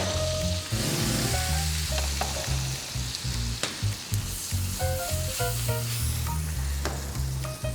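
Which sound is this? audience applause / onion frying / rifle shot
onion frying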